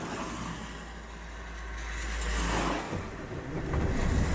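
A Land Rover 110 County Station Wagon with a 2.5 turbo diesel engine runs steadily, its low rumble swelling as it revs and then dipping briefly before picking up again, close and continuous.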